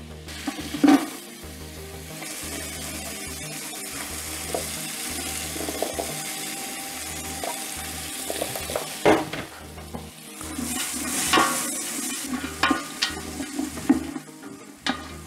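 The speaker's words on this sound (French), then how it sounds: "Mes oignons, je les laisse suer pendant environ 5-6 minutes." Onions sweating in melted butter in a pot produce a continuous soft sizzle, broken by occasional clinks and scraping of a spoon stirring, with livelier bursts of stirring later on.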